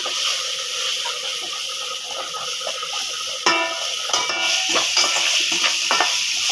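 Tomatoes fry with spices in a pan for rasam. A constant, near sizzle fills the clip, and a few clattering stirs of a spoon against the pan come in over it toward the end.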